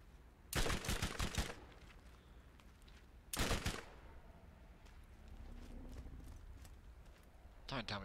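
Gunfire in Borderlands, with two sharp rapid bursts of shots separated by a pause and a third burst beginning at the end, loud against a quieter background hum.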